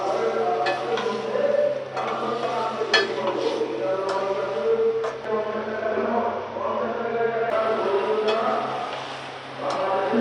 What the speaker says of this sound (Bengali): এবার মাছগুলা একটু কষায় নিব।